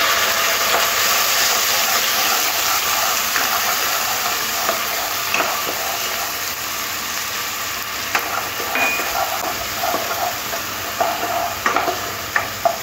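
Ground onion paste spits and sizzles in hot oil in a pan for potol jhal, a continuous bright frying hiss with occasional stirring scrapes and pops, close and loud, no talking.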